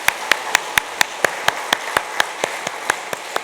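A church congregation claps to encourage the children during a worship service, producing a steady, evenly spaced beat of sharp claps, about four per second, with no talk over it.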